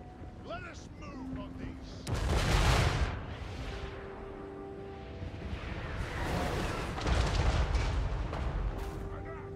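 Artillery firing in the Total War: Warhammer 3 video game, two heavy booming volleys with rumbling decay and battle noise, a brief tonal game sound early on.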